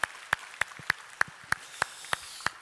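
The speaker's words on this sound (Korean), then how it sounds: "잘 오셨다고 편하게 계시라고 우리 한번 격려의 박수 한번" Slow, isolated claps at a church service welcoming newcomers, about nine sharp hand claps evenly spaced and fairly close, with quiet room tone between them.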